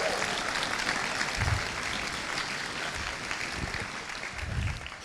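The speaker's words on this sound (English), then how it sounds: "So please give them a round of applause." An audience applauds at an OpenAI Dota 2 exhibition event, a faint, distant, continuous wash of clapping in a large hall with a few low thumps.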